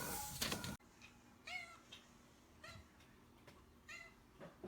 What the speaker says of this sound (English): Yes, that's a kitty cat.